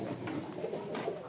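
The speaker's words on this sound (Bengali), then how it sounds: "এই দেখেন এখানে সব মাশাআল্লাহ উড়ার কবুতর" Domestic flying pigeons in their loft coo softly and close by, low throaty murmurs rolling one into another without pause.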